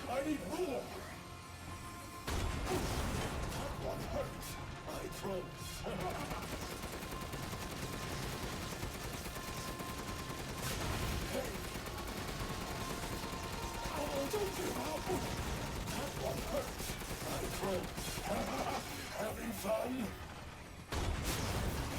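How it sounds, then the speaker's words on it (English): Sustained machine gun fire pours out during a boss fight in Resident Evil Village, long rattling bursts with sharp impacts and mechanical clatter, while someone talks over much of it. "So I'm basically just unloading the machine gun."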